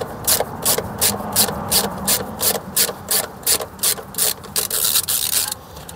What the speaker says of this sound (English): we'll start off by undoing this panel, which is these 10mm plastic nuts.